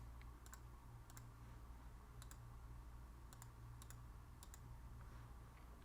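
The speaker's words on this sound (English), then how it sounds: "I can start typing it in, filter by that." Steady typing on a computer keyboard during a Python data-filtering demo, with short bursts of sharp clicking keystrokes spaced unevenly over a constant low background hum, no talking.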